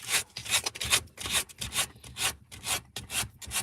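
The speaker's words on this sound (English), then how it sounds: "sand that back a little bit" Emery cloth rubbed back and forth over carved wood in steady rasping strokes, about two per second, close and fairly quiet, with no voices.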